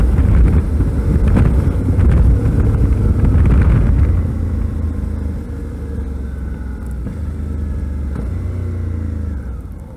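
Heavy wind buffets the microphone while riding a 2012 Suzuki V-Strom 650 motorcycle, a loud broadband rush over engine drone that eases slightly partway through.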